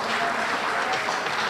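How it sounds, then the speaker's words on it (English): Steady, dense applause from an audience at a Boston community gathering for seniors, filling the whole short moment at an even level with no pauses. "yes, we can clap for that"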